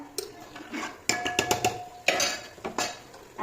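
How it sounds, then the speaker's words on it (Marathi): Cooked dal from a pressure cooker is tipped into a pan of sautéed ingredients for Solapur-style dalcha rice, with a series of sharp metallic clanks and scrapes of a utensil against the cookware, close by and irregular. "आता आपण काय करू त्याच्यामध्ये शिजवलेली कुकरमध्ये डाळ टाकून देऊ"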